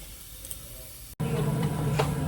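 Food dropped into hot oil in a pan, with quiet kitchen noise first, then a short gap and an abrupt, steady, loud sizzle.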